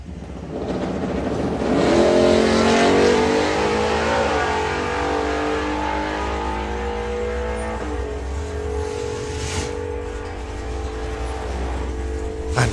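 Supercharged outlaw hot rod drag car racing hard, its engine roaring loudly with rising and shifting harmonic pitch as it accelerates down the strip, a brief tire-squeal edge as the car gets sideways, all without talk.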